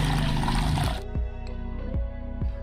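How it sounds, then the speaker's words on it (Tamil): Water pours into a juice mixture for about a second, a rushing splash that stops abruptly and leaves a few faint drips. "ஒரு மூணு டம்ளர் தண்ணி விட்டுக்கோங்க."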